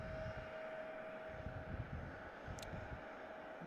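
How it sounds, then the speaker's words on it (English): A Delta jet departing Chicago O'Hare airport, its engines a distant, steady low roar with a faint whine, heard from afar at low level with no voices. "that was Delta Flight 5788 off to JFK"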